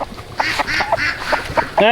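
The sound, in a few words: duck quacking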